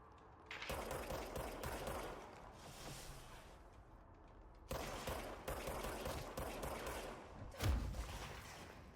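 Enemy gunfire in the video game Control comes as two long, loud sustained bursts of rapid automatic fire separated by a short pause, with a heavier impact near the end and no talking.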